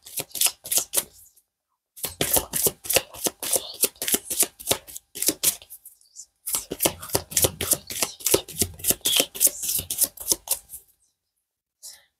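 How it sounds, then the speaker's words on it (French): A deck of tarot cards is cut and handled, giving rapid crisp clicking flutters in two long bursts separated by short pauses, close up and fairly quiet. "je vais couper juste le jeu"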